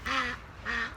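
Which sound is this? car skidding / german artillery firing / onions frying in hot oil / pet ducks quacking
pet ducks quacking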